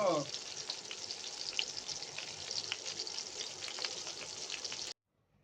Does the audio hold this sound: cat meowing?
no